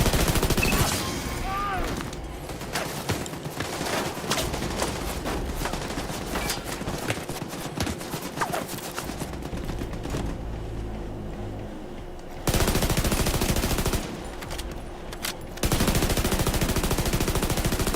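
Sustained automatic gunfire in a shooter, The Division 2, with dense rapid bursts running nearly throughout, loud and close, broken by brief pauses and an explosive frag-style blast, with someone shouting intermittently over it.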